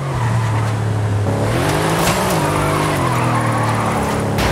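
A car in a racing video game drifts through corners, its engine drone rising and falling beneath sustained, loud tire squeal and skidding that carries on without a break; no one speaks.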